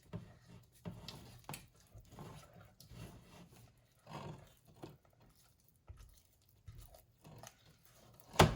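Homemade play dough mixture is stirred in a pot, making soft, sticky, irregular scraping and squelching bursts at low volume, with a sharper knock at the end.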